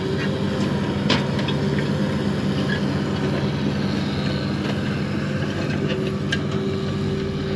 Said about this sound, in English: I think that's the most I've seen that tractor spin since we've got it.